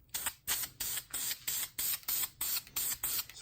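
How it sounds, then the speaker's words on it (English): Black satin spray paint hisses from an aerosol can in about ten short, even bursts at a steady rhythm, close and clear, with no voices. "the paint for this is nothing special. It's just the black satin spray paint"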